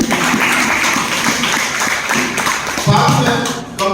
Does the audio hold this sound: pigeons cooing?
no